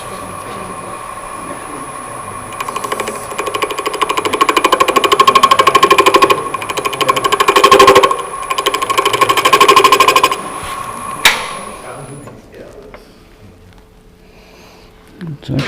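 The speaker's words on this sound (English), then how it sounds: "Let's see what happens if we start cutting the tenon." A tenon is cut on a wooden handle by a machine that gives off a steady, rapidly pulsing whir, loud and close for about eleven seconds before it winds down and fades to near quiet.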